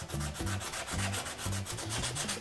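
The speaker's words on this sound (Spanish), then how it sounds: "Pasar la lija por toda la parte del hueso." Rhythmic rasping strokes of sandpaper rubbed by hand over a roe deer bone, close up, repeating in quick back-and-forth passes with no talking.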